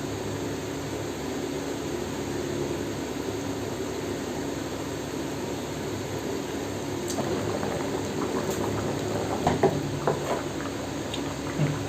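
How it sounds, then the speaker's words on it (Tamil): A pot of rice and water boils steadily on high flame for tomato rice, a dense bubbling hiss throughout with a few sharper pops toward the end. "நல்லா ஹை ஃப்ளேமில் வச்சுருக்குது, நல்லா கொதித்து வரட்டும்."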